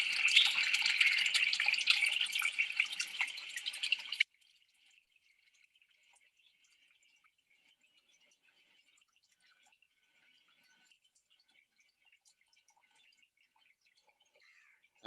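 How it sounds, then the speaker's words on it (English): Washing machine greywater pours through a planted filter bed of canna, a steady rush of water for about four seconds that cuts off abruptly, leaving only a faint trickle afterward. "washing machine water passes through."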